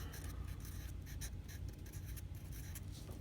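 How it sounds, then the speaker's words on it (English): A pen scratches steadily across a surface while writing by hand, a continuous close rasping with small rhythmic strokes over a dense background rumble. "Let's write it this way."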